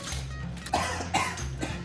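A person coughs from pepper several times in short, harsh bursts, close and fairly loud, with no talking.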